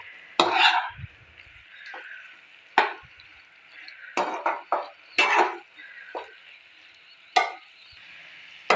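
Okra fries with tomato puree in a pan over a high gas flame, heard as a steady soft sizzle under a string of sharp scraping and stirring hits from a utensil.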